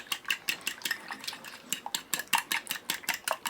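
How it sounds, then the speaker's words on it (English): Eggs whisked briskly in a dish with a utensil, a close, rapid series of sharp clinking taps against the dish with no talk. "just going to whisk them in a dish"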